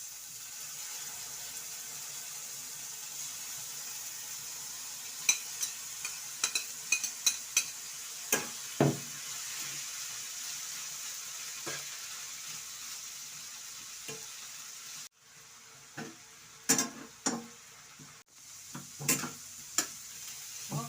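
Sliced bitter gourd (ampalaya) stirred in a pan with ground meat and egg, a faint steady sizzle under scattered clinks and scrapes of the spatula against the pan.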